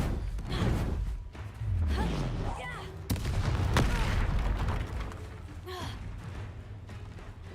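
Bombarda and Confringo spell blasts in the Hogwarts Legacy video game land as a run of loud booming explosions and sharp cracks over busy combat noise, with a voice calling out in between.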